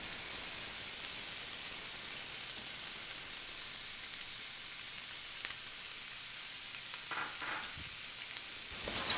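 Cooked rice tipped into a hot pan for fried rice, giving a steady, close sizzling hiss throughout with a few brief clatters near the end and no talking.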